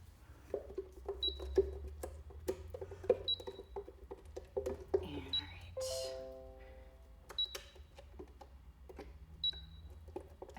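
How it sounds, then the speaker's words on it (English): Short electronic kitchen-appliance beeps sound a few times at a regular spacing, close and clear, mixed with clattering, handling noises and a brief whirring burst. "Sorry about the beeping."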